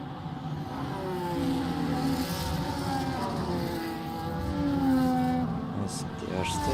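Race cars lap Imola in a racing video game under virtual safety car, a steady continuous engine drone with shifting pitches from several cars, loud and sustained throughout with faint commentary beneath.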